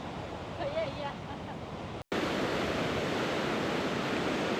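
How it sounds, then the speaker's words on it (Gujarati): Steady broadband rush of a river flowing through mountains near Athabasca Falls in Jasper, Canada, constant and fairly loud, with a brief dropout partway through and no talking. "આવા પહાડોની વચ્ચેથી નદી પસાર થાય છે"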